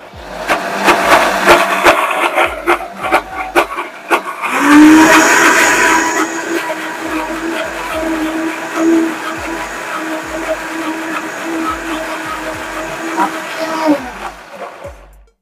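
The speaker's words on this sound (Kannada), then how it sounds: "ಸರ್ ಇವಾಗ ಮಿಕ್ಸಿ ಹಾಕೋಣ, ನಾನು ಹಾಕ್ತೀನಿ ಕೊಡು." A kitchen mixer grinder blending chutney, its motor starting with a loud whining roar that holds steady for about ten seconds and then winds down, with clicks and voices around it.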